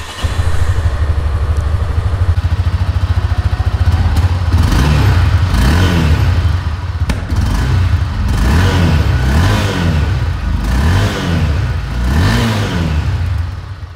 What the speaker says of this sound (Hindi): तो हम लोग सेल्फ स्टार्ट करते हैं और हम लोग इसका एग्जॉस्ट साउंड को सुनते हैं।